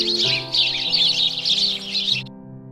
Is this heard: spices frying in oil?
no